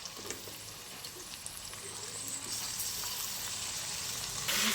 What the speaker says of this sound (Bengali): এটাকে একটু সুন্দর করে ভাজা ভাজা করে নিই